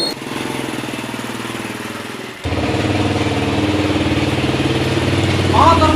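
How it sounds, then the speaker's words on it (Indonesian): A motorcycle engine idles with a steady, close, throbbing putter that steps up louder partway through and keeps running under faint background voices. "Motor."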